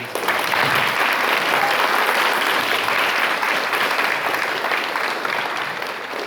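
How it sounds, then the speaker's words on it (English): A crowd at a summer community chorus performance applauds in a steady, full roar of clapping that holds for about six seconds and eases slightly at the end, with no talking over it. "So I want to applaud them again. Can I clap for them again?"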